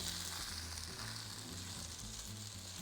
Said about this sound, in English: Okay, so I'm just going to give this a little stir